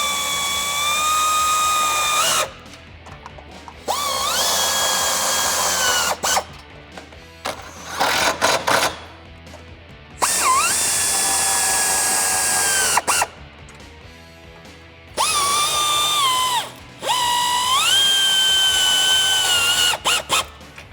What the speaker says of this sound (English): we're gonna take our 10mm socket and our wrench, and we're gonna tighten the rest of this stuff up